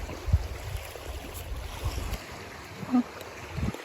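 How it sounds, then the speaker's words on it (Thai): Strong wind blows at a seaside shore, producing a steady low rumbling buffeting against the microphone with occasional gusty thumps, loud and close, with no speech. "ลมก็แรงค่ะ"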